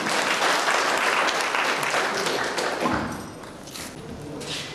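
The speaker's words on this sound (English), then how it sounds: "So clap your hands for him" Audience at a community meeting about an oil spill's impact on riverine communities breaks into loud, sustained applause that gradually thins and fades toward the end.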